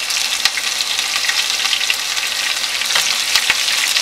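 Steady crackling sizzle of garlic and green chilies frying in a hot pan over medium flame, close and continuous, with a few sharper pops and spits now and then.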